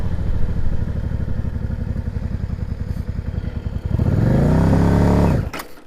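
A motorcycle fitted with a jockey shift idles with a close, lumpy beat, then is revved up hard into a sustained roar before it cuts off abruptly.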